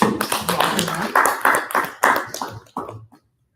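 A crowd claps together in a burst of applause, loud and close, with scattered claps tapering off and fading out near the end.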